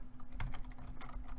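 Fingers tap out a git clone command on a computer keyboard: quick, close, irregular keystrokes at moderate loudness with no talking.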